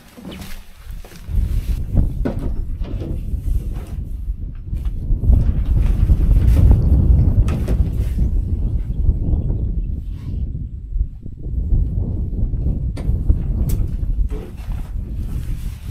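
Strong wind gusts across the open Inner Mongolia steppe, a loud, rough rumble buffeting the microphone that swells and eases in waves, with no voices.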